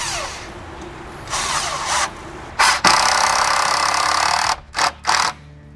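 Power drill driving a screw through a wooden fence rail into the post, several whirring bursts with one long sustained run and short stops, close and loud.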